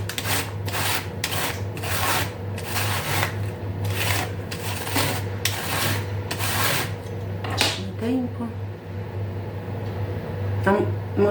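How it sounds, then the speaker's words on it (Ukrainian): Cabbage being shredded thinly, a run of rapid repeated rasping cuts in quick strokes at close range, slowing toward the end, with a steady low hum underneath. "Капусту краще так робити, бачите, як тоненько ріже."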